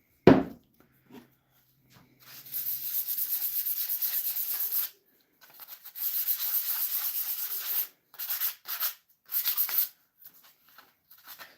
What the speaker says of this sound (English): We're just giving it a little scuff